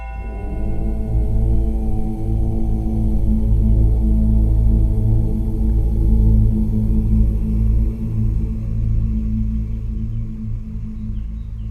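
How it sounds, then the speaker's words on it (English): A large gong rings out at the close of a breathwork session, its deep, shimmering resonance sustaining steadily and slowly fading throughout, with no voices over it. "And with the final gong, we release with the Om."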